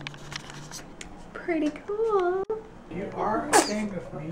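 A short sneeze cuts through indoors at a church harvest festival, set among a baby's babbling and adult chatter that carry on before and after it.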